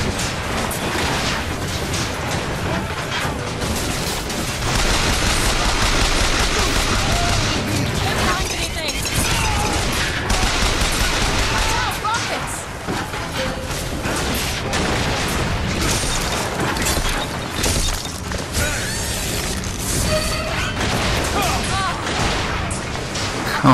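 Gunfire and booming blasts from the BioShock Infinite video game during a fight against a zeppelin, dense and continuous with explosions and mechanical clatter throughout, while a player talks over it.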